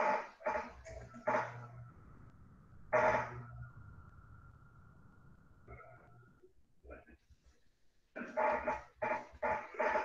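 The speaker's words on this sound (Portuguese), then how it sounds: "Tem um cachorro latindo aí também" A dog barks in short bursts of several sharp woofs near the start and again toward the end, fairly close and moderately loud, with quieter stretches and a faint whine or tone in between.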